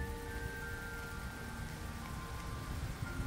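Steady rain falling at the end of a bike trip to the Hel Peninsula in Poland, a constant dense hiss with faint tonal hum underneath, even and unbroken throughout.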